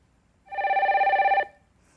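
A telephone rings for an incoming call on a consultation phone line, one clear electronic trilling ring lasting about a second, close and loud over a quiet background.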